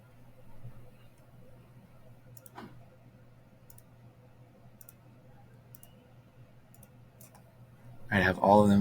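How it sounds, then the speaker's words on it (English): A computer mouse clicks sharply and faintly at a steady pace while selecting surfaces in SketchUp, followed by a burst of speech at the end. "I don't need to double click, I'm just clicking the surfaces."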